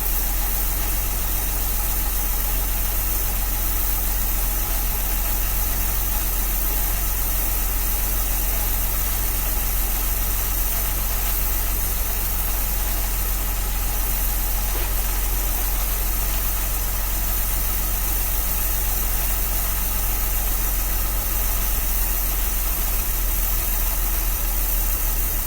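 A 1966 Dodge A100 van's engine idling after a cold start, a loud, steady, rough drone with constant vibration and a faint knock, close to the recorder and unbroken for the whole stretch.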